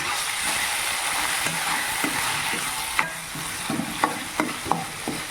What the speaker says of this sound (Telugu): టూ మినిట్స్ ఫ్రై చేసుకున్న తర్వాత కరివేపాకు యాడ్ చేసుకోవాలి